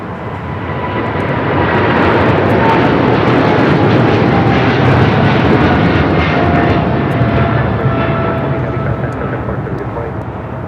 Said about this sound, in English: Air China Cargo 8420 taking off to Shanghai on a 777 freighter